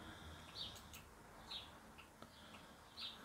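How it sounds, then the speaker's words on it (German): Birds in a tree right beside a balcony chirp three times, each short call spaced about a second and a half apart, faint and a little distant over a quiet background. "Die Vögel hören wir wieder so schön."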